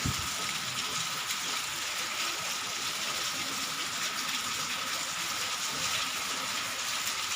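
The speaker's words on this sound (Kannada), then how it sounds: "ಇವತ್ತು ಅಷ್ಟೊಂದು ಜೋರಿಲ್ಲ ಬಟ್ ಮಳೆ ಬರ್ತಾ ಇದೆ" Continuous rain falls in a constant soft wash of hiss, moderate and even throughout, with no voices.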